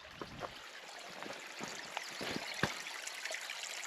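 A fresh running stream trickles steadily beside a loch at a wild camping spot, a continuous bright babble with small splashes and gurgles close by, no talking.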